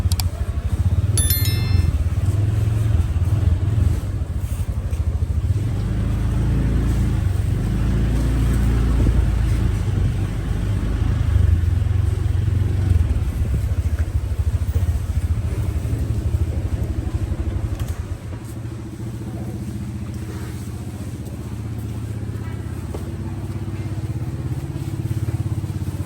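Motorcycles ride into the parking area of Bueng That Luang market in Vientiane, Laos, their engines rumbling and revving nearby, overlapping with other traffic and market clatter before the noise eases toward the end.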